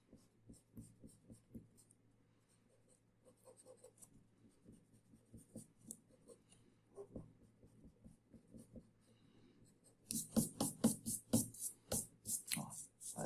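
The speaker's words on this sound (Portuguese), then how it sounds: "eu já vou dar uma apagadinha nessas linhas auxiliares" An eraser rubs out auxiliary construction lines on an orthographic projection drawing of circular shapes: faint, sparse scratchy strokes at first, then a burst of loud, rapid back-and-forth rubbing near the end.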